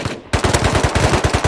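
A short quiet moment breaks into a sustained, loud burst of automatic gunfire in a video game, with rapid shots fired close and evenly spaced until the end.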